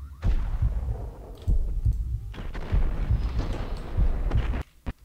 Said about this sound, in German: die Schüsse werden halt immer so ganz merkwürdig reflektiert